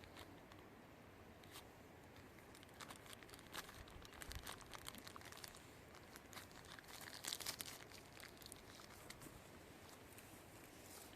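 Plastic wrap being placed over graft scions while grafting medlar onto hawthorn: soft, irregular crinkling and rustling nearby, faint and continuous, rising briefly toward the end.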